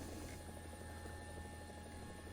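A Scout helicopter in War Thunder gives off a steady, close rotor-and-engine drone with an even whine held on top, unchanging and with no talk over it.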